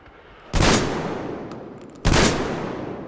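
Two loud, close gunshots ring out in the Metro Exodus video game, roughly one and a half seconds apart, each a sharp blast trailing off into a long echoing decay.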